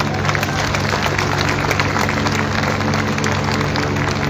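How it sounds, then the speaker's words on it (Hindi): An audience claps in applause at a motivational business speech event, a dense, steady wash of many hands that stays loud and even throughout with a faint crowd murmur underneath. "तो आप सब अपने आप के लिए तालियां बजा सकते हैं।"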